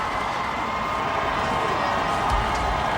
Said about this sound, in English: Look at part of this terrific crowd on hand for this 5A state final.